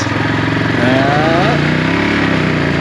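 A neglected Yamaha ATV brought back to life runs in first gear as it pulls away under its own power. The engine's buzzing chug stays loud and close, with a person talking over it.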